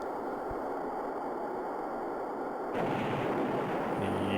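Bombs explode on target in the Falcon flight simulator game, a deep boom over a steady hiss of cockpit noise, then a rougher rumbling roar that carries on to the end.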